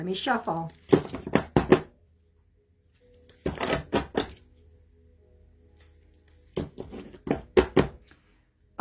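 A deck of cards is shuffled in three separate bursts of quick riffling snaps and taps, close and crisp, with quiet pauses between them and a brief voice near the start.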